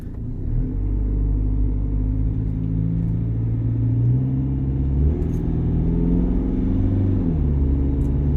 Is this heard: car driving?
yes